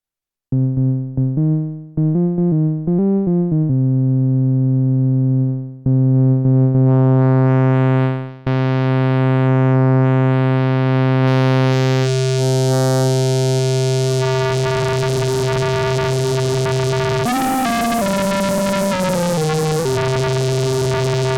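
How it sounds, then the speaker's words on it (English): A buzzy synthesizer tone from a quadrature sine-cosine oscillator through a balanced modulator stutters in short pulses, then sustains and sweeps into a dense, shifting metallic drone, loud and alone. "A quadrature oscillator with two inputs, a sine and a cosine oscillator into a balanced modulator."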